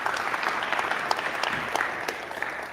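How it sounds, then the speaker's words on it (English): An audience applauds at an AI demo night in a Stevens University venue in Hoboken, New Jersey: steady, dense clapping from a sizable crowd that holds throughout without fading. "Can we get a round of applause to Stevens for hosting us in this awesome venue?"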